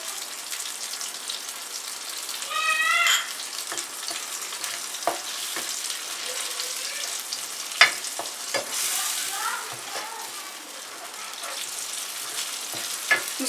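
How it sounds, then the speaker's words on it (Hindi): Pizza sauce with coriander powder and dried fenugreek stirred and sizzling in a pan, a continuous soft frying hiss broken by scraping spoon strokes and occasional clinks against the pan, close and alone without talk. "धनिया पाउडर, सूखी मेथी, इसको हम अच्छे से मिक्स कर लेते हैं।"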